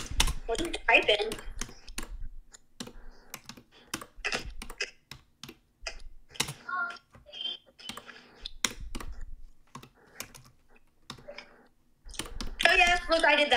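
Quick bursts of clicky computer-keyboard typing sound close by, with sharp individual key taps and pauses, as children chat over the keystrokes.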